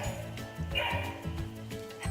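A sheepdog herding sheep barks from a farm-themed sound book, a recorded sequence of repeated yips and bow-wows in a steady rhythm over a faint tinny background tune.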